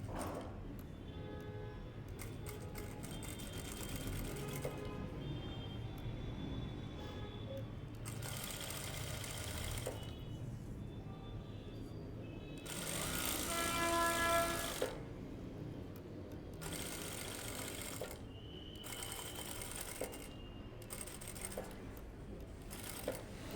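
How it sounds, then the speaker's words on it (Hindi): A sewing machine stitches along the edge of a full stand collar on a blouse, running in quiet bursts of rapid mechanical ticking separated by pauses. "जहाँ पे हमारा कॉलर है इसके किनारे किनारे के ऊपर हमें स्टिच लगानी है"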